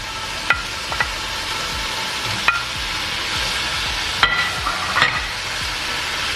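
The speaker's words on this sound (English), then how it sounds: "So I hear it sizzling, y'all." Food sizzles steadily in a hot frying pan while cooking jambalaya, with occasional scrapes and clinks of a utensil stirring.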